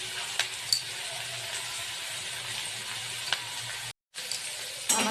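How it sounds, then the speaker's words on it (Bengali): Ingredients for kadai paneer frying lightly in a pan, giving a steady broadband sizzle with a few sharp pops and a brief dropout near the end; no one speaks. "এগুলো আমি হালকা ফ্রাই করছি, বেশি করবো না"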